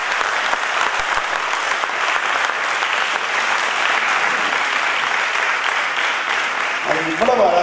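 A large audience at a Ponniyin Selvan stage drama applauds in a dense, continuous wash of clapping that holds steady throughout, with a voice briefly emerging near the end.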